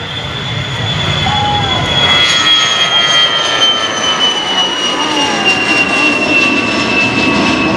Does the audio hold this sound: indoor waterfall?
no